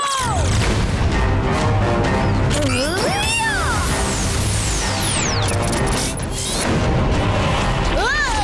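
Cartoon magic fireball spell with whooshing, swooping tones and rushing bursts over a booming music score, loud and busy, with a voice briefly shouting over it.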